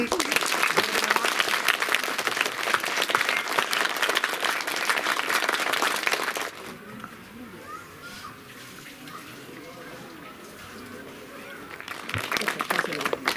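Schoolchildren at a free sweater distribution event at a government senior secondary school clap in a loud, dense burst lasting several seconds, followed by a quieter stretch with talk, then another round of clapping.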